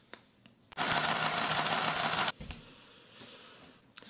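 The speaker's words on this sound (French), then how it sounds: "Je vais faire 2 coutures." A mini sewing machine sewing seams gives a loud, fast rattling whir of about a second and a half, then a clunk and a quieter mechanical tail with a few light clicks.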